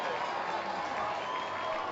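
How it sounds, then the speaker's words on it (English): A home crowd at a Wilson Tobs minor-league baseball game against the Holly Springs Salamanders cheers and applauds after a triple, a steady, dense roar of many voices at some distance with no clear peaks. "As Kevin Jordan gets a triple, the home crowd comes alive"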